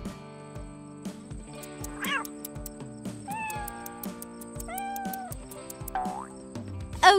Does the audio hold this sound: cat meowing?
yes